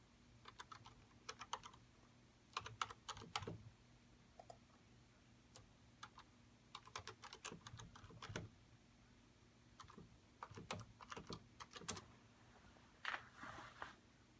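Login details typed on a computer keyboard at a radio studio PC, bursts of quick close key clicks separated by short pauses, with a faint steady hum beneath.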